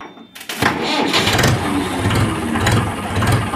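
A Mahindra 475 DI tractor engine cranks and catches in a village near Sardhana, Meerut, Uttar Pradesh, then settles into a loud, rumbling idle close by.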